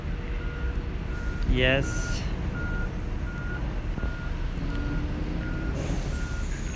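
A truck's reversing alarm in the Truckers of Europe 3 video game beeps in a steady, evenly spaced rhythm over engine hum, with someone talking throughout and a brief hiss midway.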